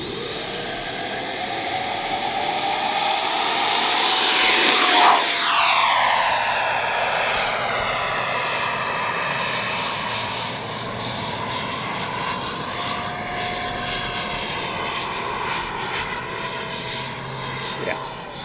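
A Freewing JAS-39 Gripen jet-powered model plane roars past, its whine sweeping downward as it passes close, then fades to a steady distant drone.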